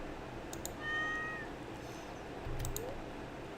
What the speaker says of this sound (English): Oh, the little kitty cat.